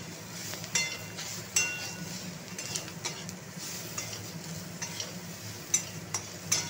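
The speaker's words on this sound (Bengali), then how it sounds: "ভালো করে পেঁয়াজটাকে এবার ভেজে নিলাম।" Onion frying with cumin seeds, a bay leaf, turmeric and salt in a pan, giving a soft steady sizzle with a few light clinks of a spatula or spoon stirring against the metal.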